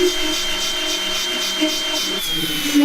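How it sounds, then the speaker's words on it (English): An angle grinder grinds rusted, rotted welds on a Chevrolet Blazer, giving a loud, continuous high-pitched whine with a harsh metallic hiss that wavers slightly throughout. "So we're trying to grind the welds so we can beat them out because they're all rusted and rotted"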